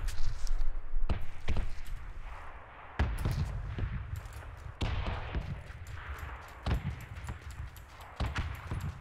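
Gunshots ring out in a PUBG match, a series of sharp, separate cracks spaced a second or two apart against a low rumbling background.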